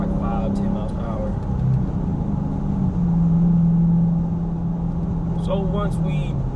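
A car cruises on the interstate a little over the speed limit and passes tractor trailers, giving a steady road drone and engine hum that swells slightly in the middle, with a person talking over it.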